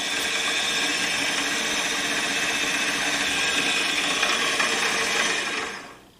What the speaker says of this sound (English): we're going to ream to size and just have a good accurate fit on the pins